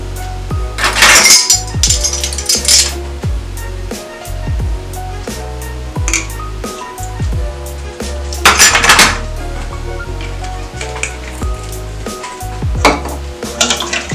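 A whisk beating vanilla into cake batter in a bowl for a steamed cake, loud rhythmic clinking and scraping against the bowl in several bursts, close and with no talking.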